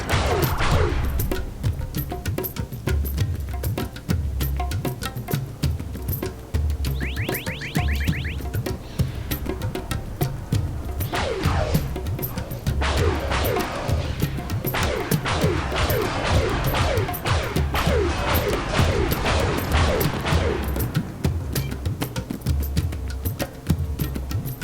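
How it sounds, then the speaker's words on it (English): Missiles slam into a ship in the space combat of SWG Legends. The result is a dense, continuous barrage of loud crashing impacts and bursts that come in repeated waves over roughly twenty-five seconds, with no talk. "So I'm just going to let missiles hit us."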